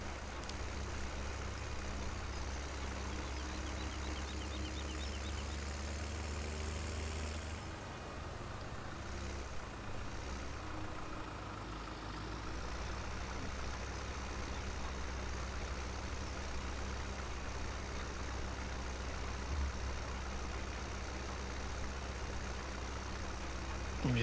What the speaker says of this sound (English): You can hear that engine is really struggling to give me the full grunt.